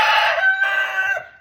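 A chicken calls out loudly and close by, one sustained strained crow-like cry lasting about a second before trailing off, with no talking.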